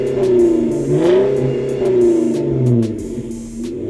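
Jeep Wrangler JK with the 3.6 Pentastar V6 and an aftermarket exhaust, revving in repeated rising and falling blips, a loud, close, throaty engine note with no talk over it.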